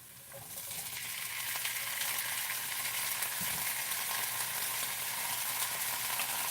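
Celery sizzles steadily in a pan for a vegetarian curry stir fry, a continuous close frying hiss that swells slightly after the first second and holds loud throughout with no talk.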